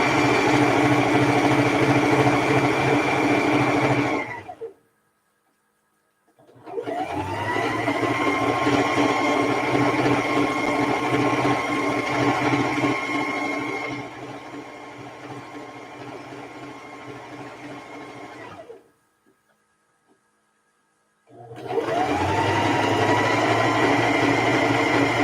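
A sewing machine stitches quilt pieces in three long, steady runs of fast whirring hum, broken by brief silent pauses, close and even in loudness throughout.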